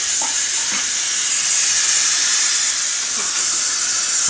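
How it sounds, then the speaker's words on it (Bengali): Boiled eggs simmer in a sour egg curry (dimer tok) on the stove, giving a steady, loud bubbling hiss with faint stirring touches and no talk. "এবার আমি ডিম সেদ্ধটা এর মধ্যে ছেড়ে দেবো। একটু মিনিট 10 ফুটে গেলে আমি নামিয়ে নেব।"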